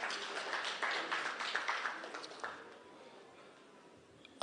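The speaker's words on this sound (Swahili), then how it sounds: "So tupigie CS makofi." An audience at a public participation meeting on privatization in Eldoret applauds a Cabinet Secretary with steady clapping that slowly fades out, ending with a single sharp knock.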